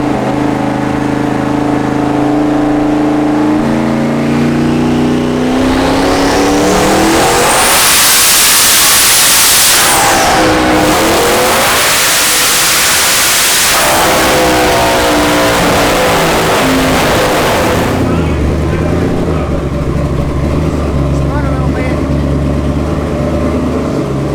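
Boosted Ford Mustang engine on a dyno, idling then climbing into a long loud roaring rev with a whining rise, dropping briefly and pulling again before falling back to a rumbling idle, very close.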